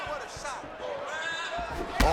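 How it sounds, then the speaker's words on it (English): An MMA fighter is slammed down onto the mat at a UFC Fight Night event in London: one heavy thud lands near the end, under constant crowd noise and commentary. "slams him down with conviction"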